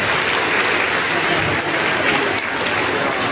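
Loud, sustained applause from a large crowd fills the hall at a school health team ceremony, steady and dense throughout with no clear pauses.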